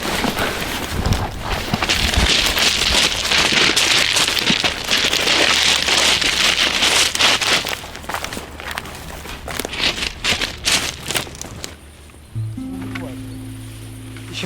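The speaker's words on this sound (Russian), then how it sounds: "Из-за того, что начался дождь" Rain falls steadily outdoors in the Chernobyl exclusion zone near a railway line, a dense close patter on surfaces. It thins toward the end, and faint footsteps and movement sound through it.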